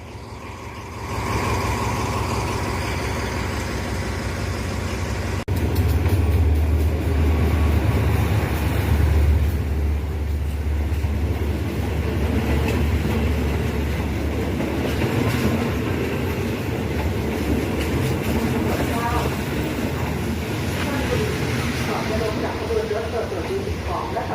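A State Railway of Thailand passenger train rumbles along the rails with a steady low roar and faint rhythmic clatter, a loud jolt partway through, heard from inside the carriage.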